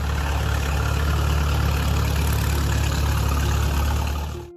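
Allis-Chalmers WD-45 tractor, a 1953–1957 model, idling with a steady low, even engine rumble that holds at a constant level, close and loud with no voices, until it cuts off at the very end.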